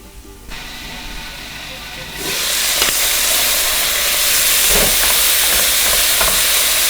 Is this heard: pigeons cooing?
no